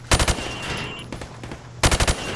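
Bursts of rapid automatic gunfire in Call of Duty Modern Warfare, a loud quick volley at the start and another near the end, with a faint steady hum between them.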